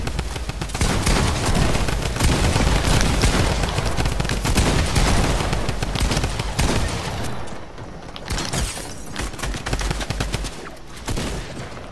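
Sustained bursts of gunfire from a first-person shooter video game, with dense rapid shots and heavy booms at close range that ease off somewhat toward the end, with no speech over them.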